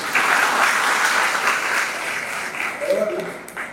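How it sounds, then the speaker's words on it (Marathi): A college speech hall audience claps in a dense, steady burst of applause that fades slightly toward the end, with a voice starting to speak under the last moments. "त्यांच्यासाठी जास्त टाळ्या वाजल्या."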